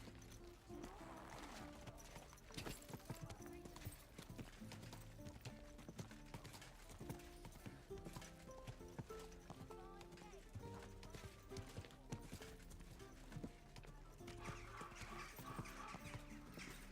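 Horse hooves clip-clop in a steady rhythm while riding in Kingdom Come Deliverance 2, close and clear over game music, with a voice speaking now and then.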